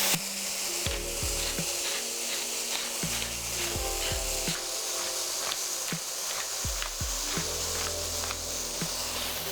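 Mushrooms sizzle steadily in a hot pan while being seasoned with salt and pepper, with repeated close scraping and stirring strokes of a utensil breaking through the continuous frying hiss.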